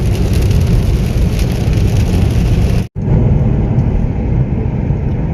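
Steady broadband rain noise and road rumble from a car driving through rain on a misty, snowy mountain road, continuous and loud with a brief dropout partway through.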